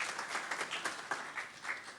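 Brief, quiet applause from an audience at a school board meeting, with a few distinct claps standing out over a soft continuous patter.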